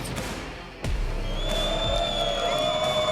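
A tournament crowd at a Grand Slam event cheers and whoops in a loud, continuous wash of voices, with a sharp swell partway through and ringing tones riding over the roar.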